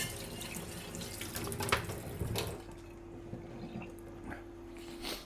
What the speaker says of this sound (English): the plate has been rinsed